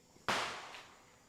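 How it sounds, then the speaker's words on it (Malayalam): A single sharp firecracker bang at a Vishu festival fireworks show bursts suddenly and loudly, then trails off in a long, fading crackle and echo with no talking. "പെരുന്നാൾ വിഷു വെടിക്കെട്ട് പ്രോഗ്രാം ഇവിടെ ആരംഭിക്കുകയാണ്"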